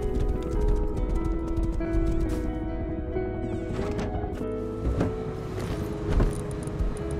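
Clip-clop of horse hooves trotting steadily in the video game Rust, over a bed of continuous game sounds and tones, moderately loud with a few sharper accents.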